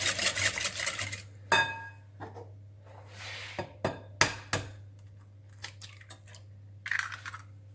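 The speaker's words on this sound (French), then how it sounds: "Je mélange bien entre chaque œuf." Eggs being mixed into melted-butter cake batter in a bowl: scattered clinks and scrapes of a utensil against the bowl, separate knocks and brief clattery bursts over a low steady hum.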